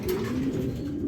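Racing pigeons cooing at a farm loft, a continuous low burbling coo close by with overlapping birds and no talk.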